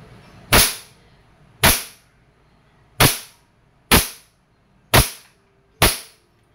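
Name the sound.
KWC 75 Competition airsoft pistol firing shots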